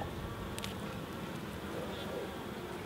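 Honey bees buzzing during a UK hive inspection ahead of winter, a faint, continuous, dense hum from many bees close to the open hive, with no clear speech over it.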